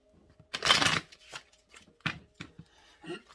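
Tarot cards are shuffled close by in a few short rustling riffles, the first the longest and loudest, separated by quiet gaps.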